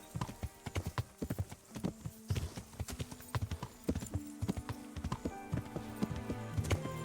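Horse hooves clip-clop in an irregular, quick rhythm as a rider travels along a road in the video game Kingdom Come Deliverance, close and distinct, with occasional faint whinny-like sounds and no talking.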